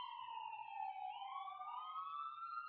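A wailing siren rises and falls, sounding somewhat distant and muffled, continuing steadily throughout without voices.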